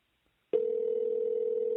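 After about half a second of silence, a steady, fairly loud telephone tone starts and holds unbroken for the rest of the clip, with no voices.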